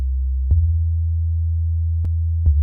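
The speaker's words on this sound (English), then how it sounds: "the mid bass is just going to be the same thing, a sine wave" A sustained sine-wave mid-bass synth tone sitting an octave above the sub bass, around 100 Hz, drones steadily and loud, with a few brief clicks punctuating it.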